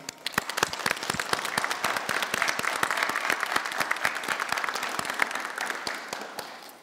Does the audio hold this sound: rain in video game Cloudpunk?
no